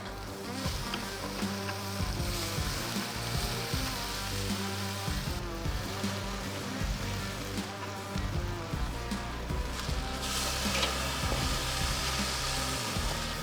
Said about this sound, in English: Starting to get a little bit of that sizzle action.